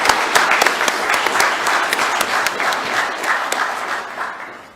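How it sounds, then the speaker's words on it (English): A large audience claps in a sustained round of applause at a manifesto launch for the CAF presidency, dense and steady throughout before easing slightly toward the end. "give Dr. Patrice Motsepe a big round of applause"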